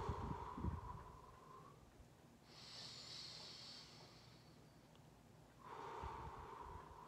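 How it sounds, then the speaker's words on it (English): A person meditating draws slow, deep breaths close to the microphone: a soft airy exhale, then a long hissing inhale, then another exhale, quiet and unhurried, with no talking. "just breathe in, breathe out"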